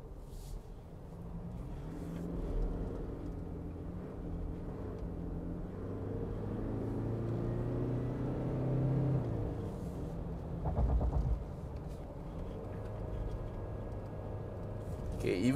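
A 2021 Toyota Fortuner on a Genting drive, switched into sport mode in auto, gives a steady low engine and road rumble with brief swells of revving, while someone talks throughout over the cabin noise.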